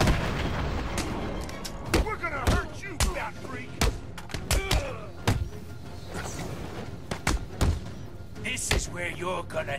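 Gunfire in a Batman video game: sharp shots crack out repeatedly at an irregular pace, mixed with thuds and slams, while voices talk over the action.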